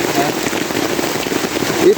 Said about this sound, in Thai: ก็ฝนตก มาแล้ว